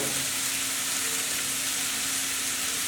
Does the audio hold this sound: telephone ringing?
no